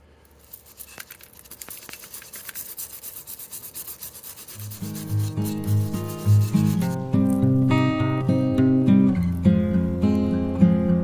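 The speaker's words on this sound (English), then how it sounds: "I'm going to try and scrape some of that out and just see how good we can get it" Rust being scraped off the underside of a Jeep, with steady rasping strokes up close that build in intensity before tonal, music-like sound takes over in the second half.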